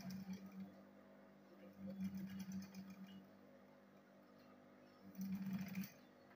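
A sewing machine stitches handbag pieces together in quiet bursts, three runs of the motor separated by short pauses, faint and steady.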